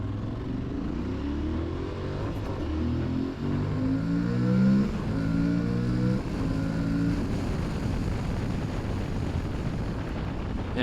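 A 2026 Aprilia Tuareg Rally motorcycle engine rumbles close and loud through a U-turn, its pitch rising and falling as the throttle opens, with wind buffeting the microphone throughout.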